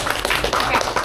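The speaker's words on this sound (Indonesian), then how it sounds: "Tepuk tangan." Brief burst of audience applause at a talk-show style interview, a short spell of dense clapping, fairly loud and close, with no one speaking over it.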